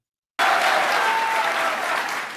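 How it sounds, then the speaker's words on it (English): Sustained applause from a crowd at a political rally, starting abruptly and holding steady at a loud, dense level. "Damn clapping for what?"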